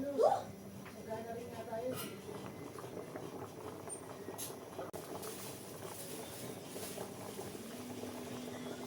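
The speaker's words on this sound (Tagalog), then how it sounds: "Pakuloyin lang po natin ulit." Sopas with macaroni bubbles in a pot, a soft continuous boiling hiss and gurgle heard fairly faint beneath someone speaking.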